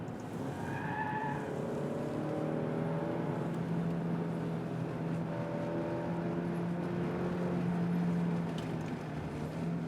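A 2023 Alfa Romeo Stelvio Veloce compact crossover drives hard on a race track, its engine droning steadily with a rising and falling pitch, mixed with road and tire noise at a moderate distance. No one talks.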